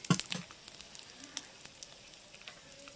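Chopped tomatoes fry in hot oil in a pan for a winter-vegetable khichuri, giving a soft sizzle with scattered crackles and pops that fade to a quieter hiss.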